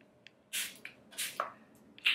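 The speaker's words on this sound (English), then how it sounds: "I'm gonna spray my face one more time." Anastasia setting spray is misted onto a face in three or four short, soft pumps, each a brief airy hiss up close, with quiet pauses between them.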